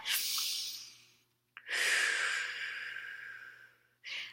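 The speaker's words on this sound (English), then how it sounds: "we're going to take a deep breath" A slow, deep breath, a long airy inhale followed after a brief pause by an even longer exhale, close and clear, with the start of another breath at the end.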